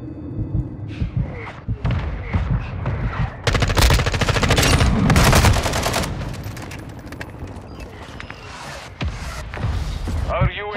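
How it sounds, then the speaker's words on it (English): Gunfire in a Call of Duty team deathmatch: loud bursts of automatic fire and thumping shots, densest midway, with voices calling out over the shooting. "Taking effective fire!"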